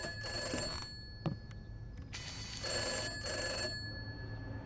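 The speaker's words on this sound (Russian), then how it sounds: "Мне звонят." An old telephone bell rings in the video game Summer of 58, set in an abandoned Soviet children's camp, with bursts of jangling rings separated by short pauses under a steady ambient hum, plus a couple of faint clicks.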